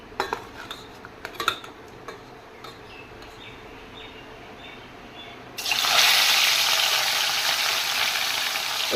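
Fish goes into a pan to fry and is turned with a metal spatula: a few scattered clinks and scrapes give way to a sudden loud, steady hiss of frying that continues to the end.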